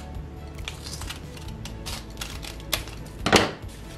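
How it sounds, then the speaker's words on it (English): Scissors snip through a folded paper lunch bag, with scattered crisp cuts and rustles and a sharper crunch near the end, all quiet and close. "We're gonna cut from the folded edge to the point and basically cut this"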